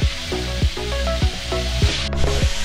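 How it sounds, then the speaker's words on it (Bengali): Crab fries in oil at a Kuakata beach food stall: a steady, close sizzle broken by regular scraping and clattering utensil strokes roughly every half second. "এতক্ষণ তেলে ফ্রাই করা হয়েছে, এখন মশলা দিতেছে"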